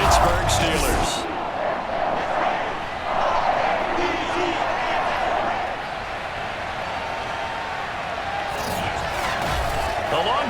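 Stadium crowd roaring and cheering in the Madden NFL 22 video game at a Baltimore Ravens home game against the Pittsburgh Steelers, a dense, steady wall of crowd noise with brief louder swells.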